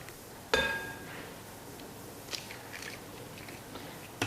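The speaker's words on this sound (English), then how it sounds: "Now we're going to crack 2 eggs into the bowl." Two eggs cracked into a bowl for a chocolate fondant batter: one sharp shell crack and clink near the start, then faint dripping and small taps, close and quiet.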